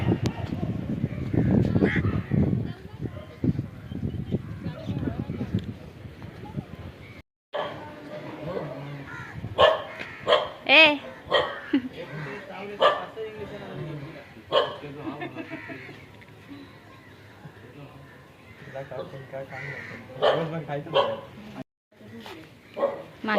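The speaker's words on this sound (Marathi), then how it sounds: "हे बघा किती कुत्रे आहेत" Dogs barking outdoors in Malvan, with repeated barks scattered over a long stretch, mixed with crow caws and a person talking throughout.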